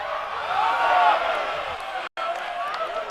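A rugby crowd at a provincial match at Manaia Domain roars in full voice during a final conversion kick, a broad, continuous wash of cheering with a brief dropout midway.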